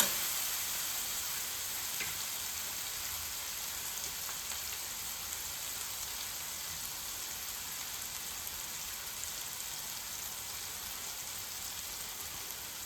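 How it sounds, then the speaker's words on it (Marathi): Garam masala sizzles steadily as it sautés in a pan for aloo matar bhaji, a constant close frying hiss with faint crackles throughout and no voices. "तो जो आपला मसाला आहे तो व्यवस्थित इथे परतत आहे"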